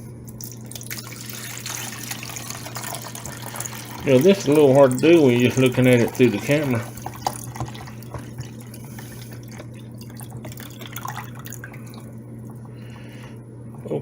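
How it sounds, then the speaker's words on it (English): Water poured into the reservoir of a Black & Decker 5-cup coffee maker, a steady trickle under a man's close-up talking, which grows louder and busier for a few seconds midway. "What I got to do is pour my water in here."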